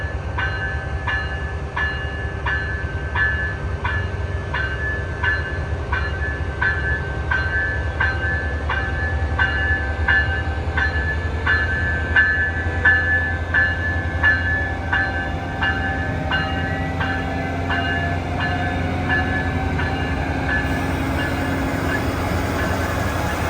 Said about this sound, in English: Another doubleheader Amtrak goes by